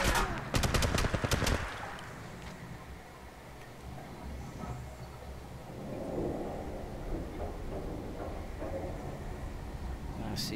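Rapid burst of automatic gunfire in the mobile battle royale game Apex Legends Mobile, loud and close at the start, then fading into quieter distant rumbling and faint later shots.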